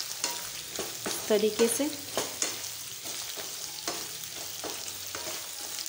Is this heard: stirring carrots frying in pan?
yes